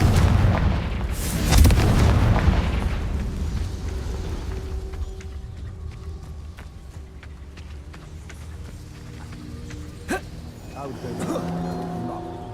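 A fire spell explosion in the Hogwarts Legacy video game gives a loud, booming blast with a rushing burst near the start, followed by quieter game sounds and rumbling effects, while a voice talks over it.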